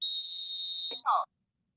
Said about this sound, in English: The whistle saved you that time.